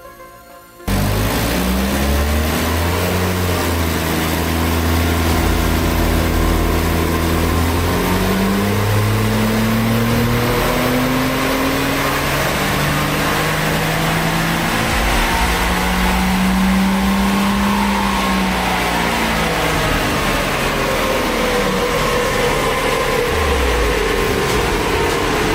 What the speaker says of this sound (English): We took it to our local dyno for just a single power run so that we could compare naturally aspirated to